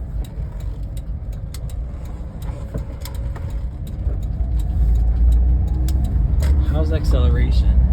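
A Honda Street kei van pulls away and accelerates along a city block, its small engine note rising steadily and growing louder toward the end, heard from inside the cabin with people talking over it.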